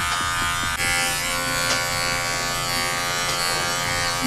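Electric 5-in-1 clippers buzz steadily and continuously at close range while grooming a Cavalier King Charles Spaniel, with only faint shifts in pitch as they move over the coat.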